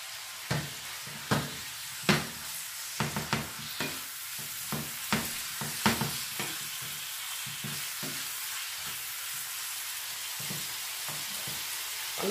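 A bay leaf fries in oil in a pan with bacon, making a steady background sizzle. About a dozen sharp utensil taps and scrapes break through it in an uneven rhythm, and no one speaks.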